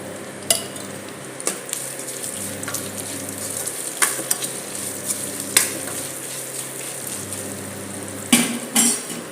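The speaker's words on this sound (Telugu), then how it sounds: "ఎండుమిర్చిని తాలింపు గిన్నె వేసానండి" Dried red chillies sizzle in hot oil in a small tempering pan, a steady close frying hiss broken by sharp metallic clinks and scrapes of a utensil against the pan.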